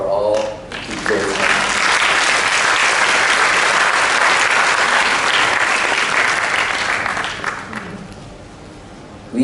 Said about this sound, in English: Please give applause for all teachers.